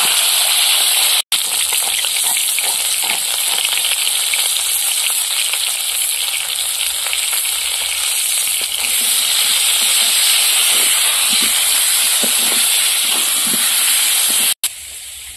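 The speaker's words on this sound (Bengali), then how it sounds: "প্রথমে আলুটা লবণ হলুদ দিয়ে ভেজে দেবো।" Potatoes with salt and turmeric frying in hot oil in a wok give off a loud, steady sizzle and hiss, continuous and close, with no talking.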